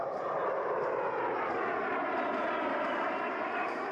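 A steady, loud jet engine roar from an A-10 Warthog with TF-34 engines, holding an even, unbroken drone throughout with no voices.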